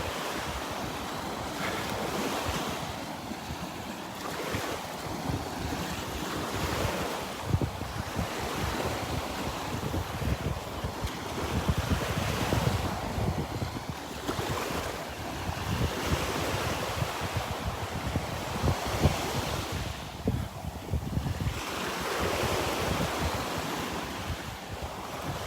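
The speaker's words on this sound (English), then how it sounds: "it's quite breezy now" Gusty wind buffets the microphone over steady surf washing onto a beach at Delnor-Wiggins on a breezy morning, a continuous rushing roar with rising and falling gusts and no voices.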